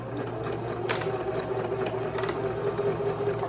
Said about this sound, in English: I'm gonna go ahead and lower my presser foot, and then I'm just gonna back stitch at the beginning and the end